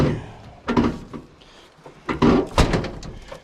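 A heavy old Ford truck door creaks open, then thunks shut with a solid metallic clunk, close by.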